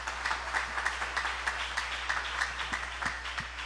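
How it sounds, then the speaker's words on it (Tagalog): A church congregation at a Filipino preaching service claps together in steady, rhythmic applause, a dense and fairly loud patter that holds evenly for a few seconds with no voices over it. "Pwede ba nating palakpakan ng mahal na Panginoon?"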